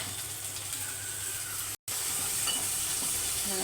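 Soaked masoor lentils hit a hot pan and sizzle with a steady, loud frying hiss, broken by a brief cut and then continuing strongly.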